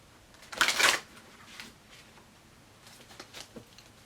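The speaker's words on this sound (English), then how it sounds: "We're going to do 2 more shuffles." Tarot cards are shuffled close up in one short, brisk riffle, followed by quieter scattered taps and soft card rustling.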